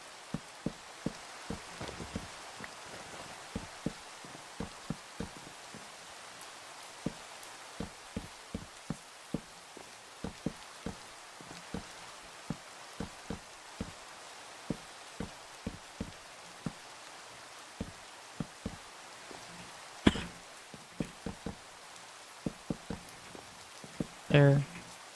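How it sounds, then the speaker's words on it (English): Rain falls in a Minecraft modpack game, a soft steady patter with scattered sharp drop ticks throughout, faint and continuous, with a louder knock near the end. "And of course now it starts to rain."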